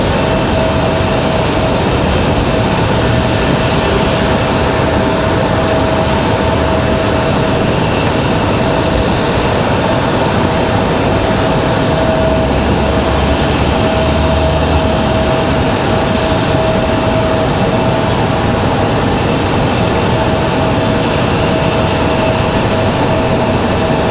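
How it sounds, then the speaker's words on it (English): A Boeing 777 landing at Raleigh-Durham International with flaps fully down and spoilers up roars loudly and continuously, a dense broad engine and airflow rumble for the whole stretch with no talking. "Flaps all the way down, spoilers up. 777 gonna go long here."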